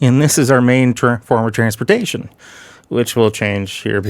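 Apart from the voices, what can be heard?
None of the usual background noises is heard.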